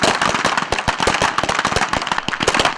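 Rifle and pistol rounds fire in rapid succession at an army small arms shooting competition, a dense, loud volley of sharp overlapping cracks with no pause between them.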